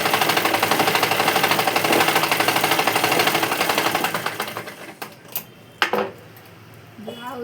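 A sewing machine double-stitches the seams of a blouse, its fast, even needle rattle running continuously up close before slowing and stopping, followed by a few scattered clicks and handling noises.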